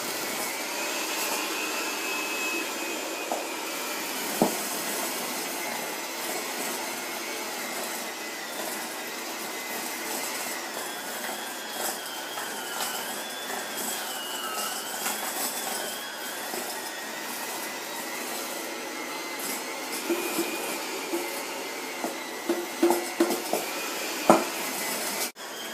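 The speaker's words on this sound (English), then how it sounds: "With the mixer on low, gradually add the flour mixture until it's completely combined." An electric mixer running on low steadily churns cookie dough with flour being added, a continuous whirring drone that lasts throughout, with a few light clinks of a bowl or utensils near the end.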